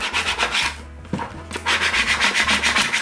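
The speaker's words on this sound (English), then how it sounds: "you can use your squeegee, you can use your hand, whatever you prefer" A squeegee rubs vinyl onto a bucket in fast, rhythmic scraping strokes, close and fairly loud, with a brief pause partway through and a dull knock before the rubbing resumes.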